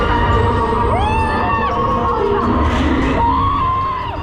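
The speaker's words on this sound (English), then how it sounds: "As you can hear from the video, it's just a bunch of screaming" Riders scream and whoop loudly on the Hyperspace Mountain roller coaster at Disneyland Paris, overlapping shrieks rising and falling over a continuous roaring rush of ride noise.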